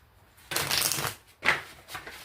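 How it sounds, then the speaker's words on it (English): Oracle cards are shuffled in two quick riffling bursts with a short pause between, close and crisp, no talking. "Now, I shuffle them"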